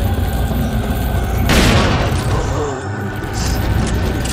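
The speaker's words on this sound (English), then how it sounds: "I can definitely feel how more powerful my shotgun got" An upgraded shotgun fires in the video game Resident Evil 4, one loud booming blast with a long rumbling tail over constant game noise and background music.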